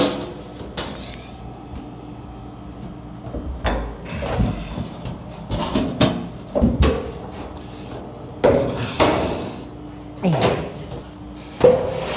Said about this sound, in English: spin it over, get it back into the brake, and squash it down